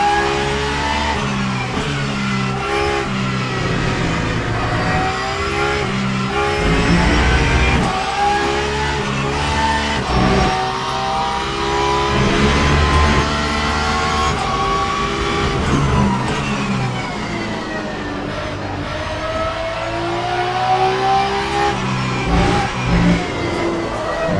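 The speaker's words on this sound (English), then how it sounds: "I love how the Porsche sounds different in the different gears." A Porsche race car engine in the sim racing game Le Mans Ultimate, revving hard and climbing through the gears with rising and falling pitch, loud and continuous with no talking.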